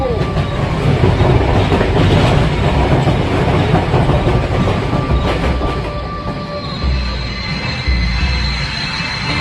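A local passenger train rolls on rails, a loud close rumbling clatter with rhythmic wheel thumps and thin squealing wheel whines drifting above, easing slightly toward the end.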